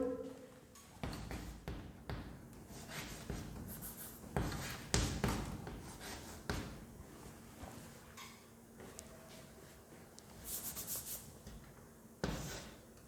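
A teacher writes on a classroom board, making faint, scratchy, intermittent strokes and soft taps in quiet bursts, with only a little background voice.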